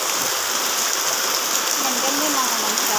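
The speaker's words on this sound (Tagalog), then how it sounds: "lumakas ang ulan talaga" Heavy rain pours down steadily and loudly with a dense, unbroken hiss, while a faint voice murmurs underneath.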